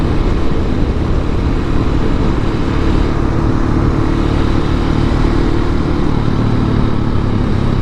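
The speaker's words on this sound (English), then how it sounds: "this is a really playful, very fun motorcycle" A 2019 KTM 690 SMCR motorcycle riding on a commute, giving a loud, continuous engine drone blended with heavy wind rush that stays constant from start to finish.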